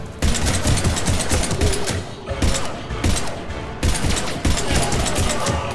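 Rapid bursts of automatic gunfire from the video game Mass Effect 3, loud and continuous with short pauses between volleys.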